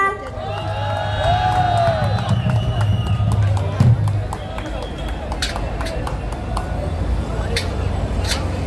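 Rally crowd at a candlelight protest rally cheering and applauding as two teams are welcomed to the stage, a dense, loud sustained roar of whoops and shouts with music and background noise mixed in.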